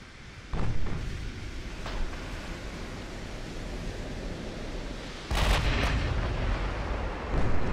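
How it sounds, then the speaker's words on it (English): Heavy 8-inch and 16-inch naval guns firing in the warship battle game Ultimate Admiral: Dreadnoughts: a few deep booming blasts over a steady roar of sea and wind noise, one louder salvo near the end. "we landed a hit with the 8-inch guns and the 16s"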